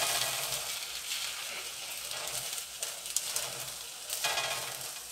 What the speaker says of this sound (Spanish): Aquí ya estamos removiendo nuestro chile, miren, porque está rápidamente para que no se nos vaya a quemar